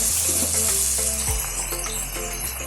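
Tomatoes and turmeric mixed in a frying pan for Gujarati batata poha: a loud, steady sizzle with a low hum and soft scraping stirs, without a break.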